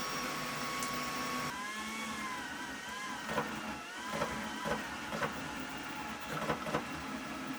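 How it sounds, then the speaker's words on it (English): A Sceoan Windstorm S1 fast 3D printer runs with a steady mechanical whir and loud cooling fans, with pitch shifts and small clicks as motors move. "Every fast printer needs a lot of cooling, which means a lot of sound"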